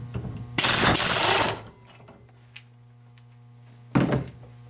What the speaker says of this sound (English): I always use an impact gun